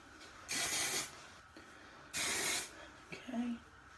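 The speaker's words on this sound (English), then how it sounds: "And then what I like to do is just give it a big spray" Two long, loud hissing bursts from an aerosol hairspray can, close by, each lasting about half a second, followed by a short quieter spritz, used while styling hair.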